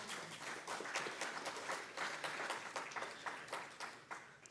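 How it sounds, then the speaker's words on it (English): An audience claps after a poetry reading at a poem jam, a fairly soft, steady round of applause with no voices. "Can we have another round of applause?"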